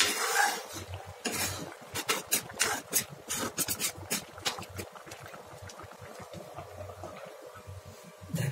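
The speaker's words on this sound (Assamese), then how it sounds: "আমি অলপ লৰাই দিম যাতে লাগি নধৰে তলত।" A spoon stirring chicken cooked with jute leaves in a pot over high flame, giving a series of irregular scraping and clinking strokes against the pot, fairly close and moderately quiet, with bursts that come and go.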